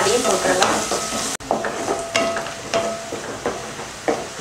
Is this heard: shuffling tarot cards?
no